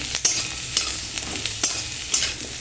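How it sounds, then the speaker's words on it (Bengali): Four cloves of garlic sizzle steadily in a pan with green chillies while being made into ghugni, with regular scraping stirs of a spatula cutting through the hiss, close and moderately loud with no talking. "রসুনটা একটু ভাজা ভাজা হয়ে গেছে"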